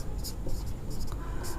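Pen writing on paper during a math lesson on polynomials, with short scratchy strokes in several bursts over a low steady room hum, close and fairly quiet.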